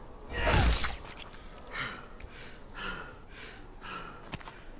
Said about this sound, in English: All you hear is this breathing like hard.